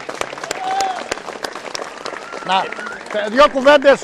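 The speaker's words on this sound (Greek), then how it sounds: "Ένα μεγάλο χειροκρότημα" Village audience applauding children, a dense burst of clapping mixed with voices and a speaker talking over the crowd.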